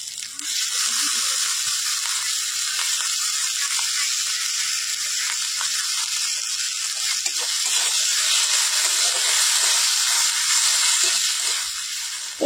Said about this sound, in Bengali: মশলাটা একটু কষানো হয়ে গেছে, এবার এতে দিয়ে দিচ্ছি টমেটো কুচিগুলো।